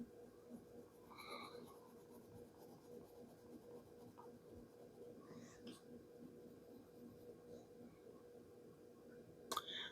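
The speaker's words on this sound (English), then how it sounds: "Just color this right on over here." Pencil coloring a picture on paper, a quiet, continuous scratchy rubbing that runs steadily throughout, faint and close, with no one talking.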